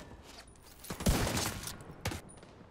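Gunfire in The Division 2, a short burst of rapid shots followed by another sharp crack a second later, moderately loud over a low game backdrop.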